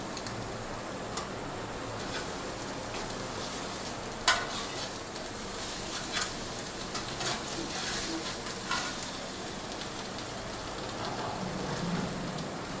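An egg omelette fries in a pan with a steady, close crackling sizzle like light rain, broken by a few soft clicks and taps of a utensil against the pan.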